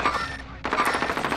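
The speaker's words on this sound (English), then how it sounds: "He shot me." Gunfire from Call of Duty: Modern Warfare, a quieter stretch giving way to loud, rapid automatic bursts that rattle on steadily to the end.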